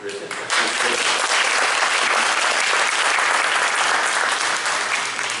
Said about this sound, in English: So you should applaud her.